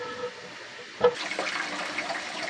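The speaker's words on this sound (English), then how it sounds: "let all that bad water drain out." Water drains out of an axolotl tank during cleaning: a brief splash, then a steady rushing, gurgling flow that continues to the end, moderately close, with no talk.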